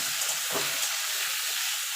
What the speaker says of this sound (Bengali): দেখুন তেলটা গরম হয়ে গেছে। এবার চিংড়ি মাছগুলো হালকা করে ভেজে নেব